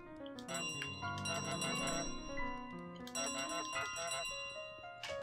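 A bright metallic bell in Untitled Goose Game rings repeatedly in clustered strikes with long shimmering overtones, sustained and loud over a musical backdrop.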